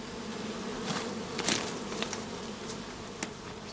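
Bees shaken into a swarm box covered with wire gauze, about 2.5 pounds of them, give a steady, close insect hum with a few sharper buzzing bursts as individual bees fly near.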